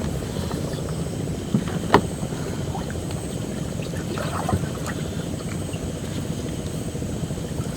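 Low, steady rumble of a boat moving on the Payra River, with a couple of brief knocks and splashes; no voices.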